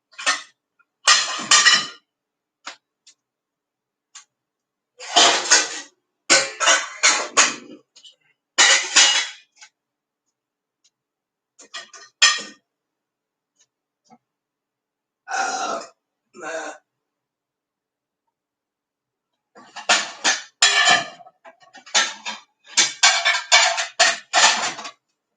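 Dishes and cutlery handled in a kitchen, with close, clattering clinks and knocks arriving in short irregular bursts separated by quiet pauses.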